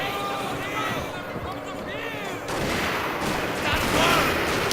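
Musket volleys crackle in a Fall of the Samurai 3v3 battle, as a cavalry-hit spear unit advances under fire; bursts of gunfire pile up over a constant din of battle noise, with voices mixed in.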